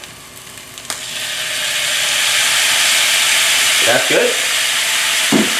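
Noodles and vegetables sizzle and hiss steadily in a hot pan with soy sauce for a vegan stir-fry, a broad continuous fry noise with a few stirring scrapes near the end and one short spoken remark.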